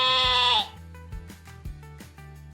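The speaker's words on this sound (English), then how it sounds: "A sheep says baa." A sheep gives one loud, wavering bleat lasting about half a second. It is followed by a quieter, rhythmic backing of music.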